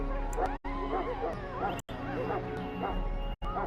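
Mabari war hound from the Dragon Age: Origins video game barking and yipping in a castle, a few sharp barks and whimpers at moderate level with speech mixed in.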